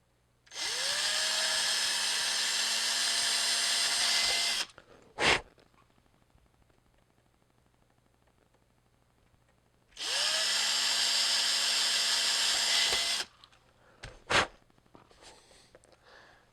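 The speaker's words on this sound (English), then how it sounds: "And we're going to drill 2 holes." Two bursts of a small drill, each a steady whine lasting several seconds, as a 1/16 inch bit bores holes in a pinball circuit board. A short click or clack follows each burst.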